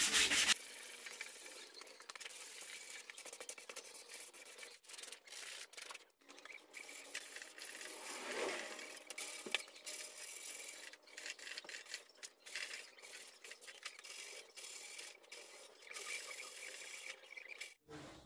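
Hand sanding of polyester body filler with 80-grit sandpaper on a small block, a steady close scraping rub that goes on without a break and is heard alone.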